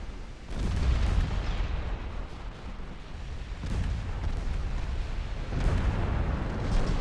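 Naval artillery fire and shell hits on warships in the Ultimate Admiral Dreadnoughts game: three heavy, rumbling booms about two seconds apart, each swelling into a long, dense roar that never fully fades between them.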